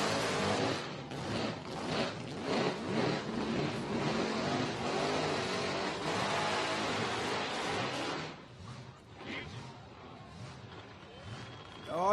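Big blown V8 burnout car revving hard at Summernats, a loud sustained roar with surging throttle bursts and crowd noise, easing off near the end as the engine hunts; commentators talk over it.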